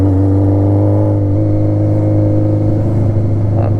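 Engine of a Honda CB750 Nighthawk motorcycle running steadily on the road with a deep, continuous drone, pitch shifting slightly as it is revved through hard gear changes, loud and close, with no talking.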